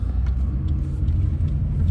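Inside a moving car, a steady low road rumble and engine drone fill the cabin, with a few faint higher ticks and no talk.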